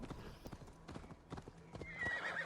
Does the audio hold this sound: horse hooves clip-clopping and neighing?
yes